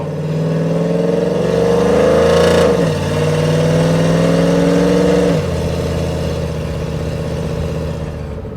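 A cammed Chevrolet Silverado with a 5.3L V8 and long tube headers revs up loudly and close by. Its rising exhaust roar peaks, drops back, then holds a throaty, lopey burble before easing off.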